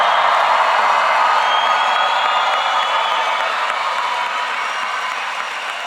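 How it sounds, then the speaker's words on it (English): An audience at a high school graduation ceremony applauds the graduating class of 2026, a steady, dense wash of clapping that holds throughout and fades slightly toward the end. "Round of applause."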